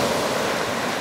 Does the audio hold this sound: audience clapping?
no